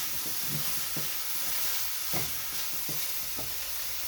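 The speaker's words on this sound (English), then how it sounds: "put in some olive oil. Got to stir it every now and then." Pasta in a pan with olive oil is stirred over a steady sizzling hiss, with several distinct scraping strokes spaced about half a second to a second apart, close and moderately loud.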